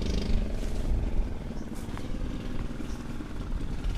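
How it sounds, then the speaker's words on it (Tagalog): Outboard motors of passing boats near an island in the Philippines, a steady close engine drone with a rattling low chug that holds throughout. "rinig yung mga bangka dito."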